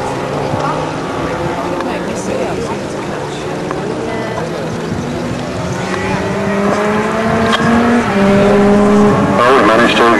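Grand Prix sidecar racing outfits on a warm-up lap before the third race roar past as a loud, continuous engine drone whose pitch climbs and shifts as the machines accelerate, close by and filling the whole clip.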